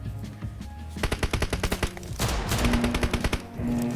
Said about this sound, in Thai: M16 นั้น I need a มั weapon นไม่สามารถยิงแบบ Team match. กดรัวๆเหมือน SS หรือว่ามินิได้นะครับ มันต้องกดเป็นจังหวะครับทุกคน